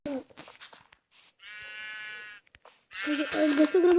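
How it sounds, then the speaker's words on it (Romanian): A sheep bleats once in Minecraft Pocket Edition, a sustained nasal in-game cry, with a voice talking briefly before it and louder chatter right after. "Oaie!"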